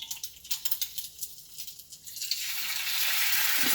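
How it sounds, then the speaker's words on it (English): Butter and egg sizzle in a hot pan, crackling and popping in bursts before settling into a steady, loud hiss. "It sizzles immediately, especially those of the butter."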